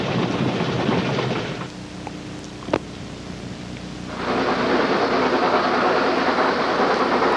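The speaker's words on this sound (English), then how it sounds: "the spectators standing on the roads enjoyed watching the train go by" A train rolls past on a railway fan excursion, a steady loud roar that dips briefly in the middle before swelling back to full strength, heard close by with no talking.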